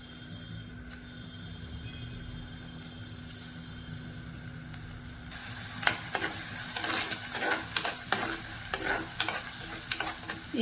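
Shallots, curry leaves, green chili and ginger-garlic sauté in hot oil for a country chicken rasam. A steady sizzle runs throughout, and from midway sharp stirring scrapes and clatters break in, with no one speaking.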